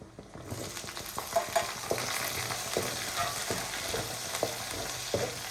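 Chopped onions frying in a pan for an egg chutney, a continuous sizzle with intermittent scraping stir strokes, close and alone with no talk.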